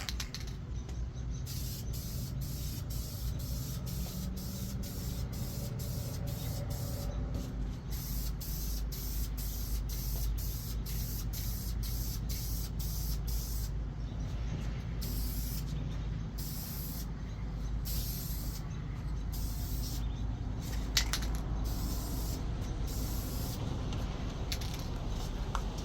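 Old wheels being spray painted in thin coats, a continuous close hiss of the aerosol can broken into short bursts and pauses, with no talking.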